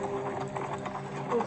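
Horse hooves clip-clop in a Game of Thrones episode as riders reach Vaes Dothrak, a steady run of soft beats under a busy soundtrack with a voice in the background.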